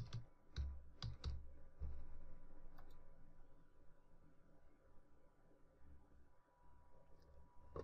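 A company name is typed on a computer keyboard as a few quick clusters of close key clicks, followed by a quieter stretch with faint scattered taps.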